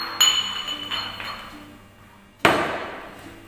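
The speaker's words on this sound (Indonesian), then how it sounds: "ini di lab kimia, jadi ini namanya alu dan lumpang atau mortir dan" A glass or porcelain laboratory mortar and pestle clinks in a chemistry lab: a bright ping, a few lighter taps, then a sharper knock near the end, with a voice speaking quietly in the background.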